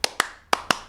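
Hand claps recorded for a music album, four sharp separate claps in an uneven rhythm that falls out of time, close and dry with no talk.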